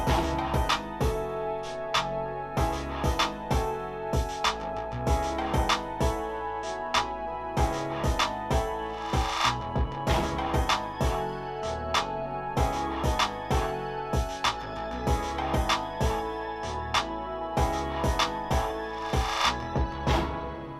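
A hip-hop instrumental, the beat for a track from an album, plays steadily with punchy repeating drum hits over a looping melodic layer, full and even throughout with no voices.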